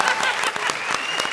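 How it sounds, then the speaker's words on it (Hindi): A television comedy show audience applauds in a brief burst of dense, steady clapping. "जोरदार तालियां कृष्णा और सिद्धार्थ के लिए।"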